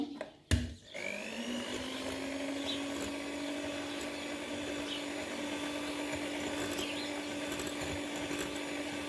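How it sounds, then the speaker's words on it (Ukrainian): Electric hand mixer whirring steadily as it blends sunflower oil with soft butter for a carrot-nut cake, starting with a click and a rising motor pitch, then a constant close hum. "Виливаю соняшникову олію і кладу м'яке вершкове масло. Міксером перемішую."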